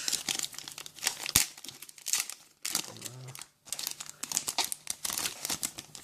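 A Pokémon booster pack wrapper crinkles and tears open up close, with bursts of crackling foil and a brief pause before more rustling.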